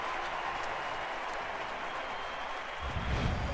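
Baseball crowd at a Yankees–Twins playoff game applauding and cheering a strikeout, a broad, distant wash of clapping and voices that swells slightly near the end.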